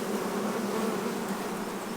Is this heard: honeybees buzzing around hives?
yes